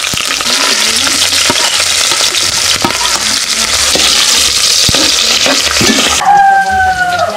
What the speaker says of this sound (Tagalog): Yun ang huli, doon ko na prito.